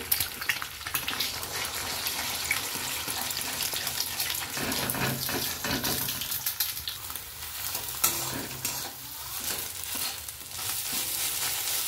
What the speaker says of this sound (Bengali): প্রথমে তেলটা একটু বেশি পরিমাণে দিয়ে আমি 2টো ডিমকে ফ্রাই করে নেব